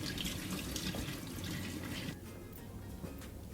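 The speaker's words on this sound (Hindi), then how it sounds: "जो हमारा नॉर्मल टैप वाटर है उसके साथ हम इसको अच्छे से रिंस कर लेंगे" Tap water runs steadily over homemade paneer to rinse out the lemon water, a continuous close splashing hiss with no voices.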